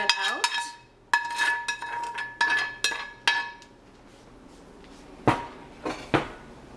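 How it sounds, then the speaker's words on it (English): A utensil scrapes and knocks against a heavy cast iron skillet holding bacon. Sharp metallic clanks and rasping scrapes repeat close up in irregular bursts with quiet gaps between them. "I'm just gonna scrape every little bit out"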